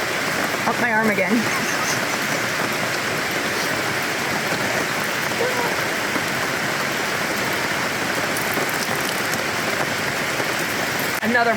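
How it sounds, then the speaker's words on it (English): Steady rain pours on a tent at a campsite during a Vancouver Island rainstorm, a dense continuous hiss with drips from the rain fly, while a person talks briefly near the start. "Oh yeah, the rain fly off the tent is dripping right on it."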